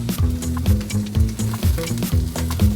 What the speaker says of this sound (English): I want to toast the spices a little bit in the bottom of the pot with the oil